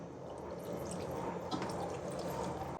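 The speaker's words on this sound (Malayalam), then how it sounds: "ഇതിലേക്ക് നമ്മൾ പാൽ ഒഴിക്കണം." Milk pours steadily into a pot for biryani, a continuous splashing trickle with no voices.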